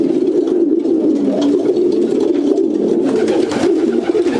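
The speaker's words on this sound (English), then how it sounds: "Tips for motivating pigeons." Racing pigeons in a loft in Portsmouth, England coo steadily in a dense, continuous chorus of overlapping low throaty calls, close and loud throughout.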